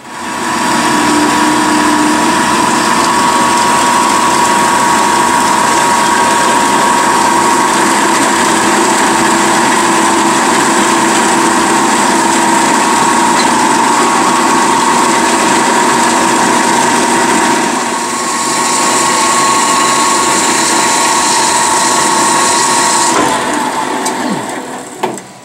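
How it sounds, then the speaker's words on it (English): A metal-cutting bandsaw running on a phase converter cuts bar stock, giving a loud, steady whirring drone with a droning hum that dips briefly near eighteen seconds and then winds down near the end. "I'll go cut it in the other bandsaw now"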